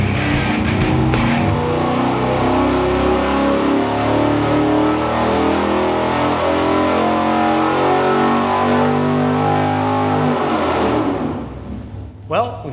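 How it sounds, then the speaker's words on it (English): Small block V8 engine on a dyno running a hard pull, a loud continuous rising roar that holds for about ten seconds before dropping off, close and dominant. "We've gotta run it on the dyno,"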